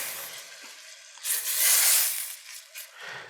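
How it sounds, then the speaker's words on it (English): Pumpkin sage risotto with wine is stirred in a hot pan, making soft scraping and a rising sizzle, close and fairly quiet, in a few uneven surges. "Give that a quick little stir."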